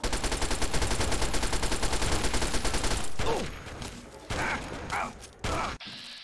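Enemy gunfire in the video game Fallout 3: a rapid, evenly pulsing burst of automatic fire for about three seconds, then a few sharper isolated shots and impacts, fairly loud with no talk over it.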